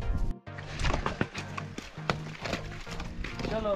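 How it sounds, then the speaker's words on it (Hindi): A trained horse carrying riders on a trail near Pahalgam, Kashmir, hooves clip-clopping in a steady walking rhythm, close and fairly loud, with people talking over it. "घोड़ा हमारा ट्रेंड है, इसको सब पता है कहाँ जाना है।"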